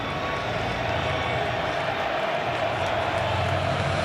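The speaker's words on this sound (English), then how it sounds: "Sun Devil Stadium crowd will eat that up." A football crowd at Sun Devil Stadium keeps up a loud, continuous roar with scattered cheering and clapping, heard in a broad, dense wash.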